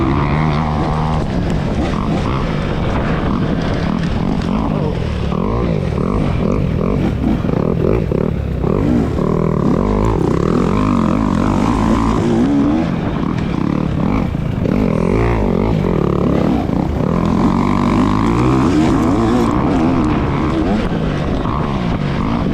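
A 2024 KTM XC-W dirt bike engine at a hare scramble race roars loud and close, held steady on the throttle for the whole stretch with no break, rough and continuous like a bike pushing through muddy, rutted trail.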